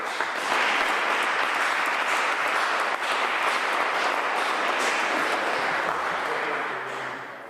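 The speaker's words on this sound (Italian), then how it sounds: "E vi chiedo quindi un applauso per Fulvio Scaglione." Sustained audience applause at an evening book presentation in a hall, a dense steady wash of many hands clapping for several seconds before tapering off at the end.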